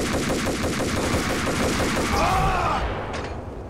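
Sustained rapid gunfire from the video game Max Payne, dense automatic bursts running loud and continuous throughout before easing slightly at the end, with no talk over it.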